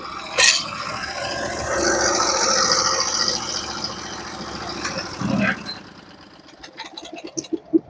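A Norwood HD36v2 sawmill head shifting along its track to reposition a timber for cutting 5x5 rafters, a steady mechanical whir with rattles and scraping, ending with a thump and lighter clicks as it stops.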